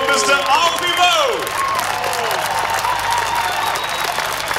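Concert audience applauding in a large hall, a dense sustained wash of clapping that stays loud for the whole stretch, with bright tonal traces from the stage or a voice briefly rising over it near the start.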